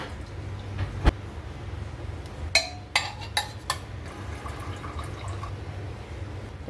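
Cooking water drains off soft boiled chickpeas over a low kitchen hum, with a few sharp clinks of the pot partway through.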